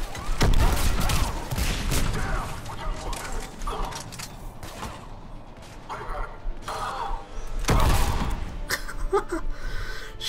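A few loud shots ring out in a Mass Effect 3 combat encounter against ex-Cerberus scientists, sharp separate blasts near the start and around the eight-second mark, with someone talking between them.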